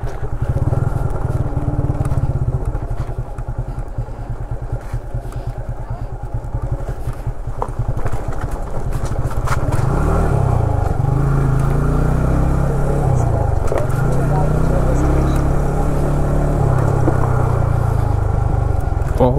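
A motorcycle engine runs with a loud, throbbing low rumble, revving slightly at times, while voices speak over it.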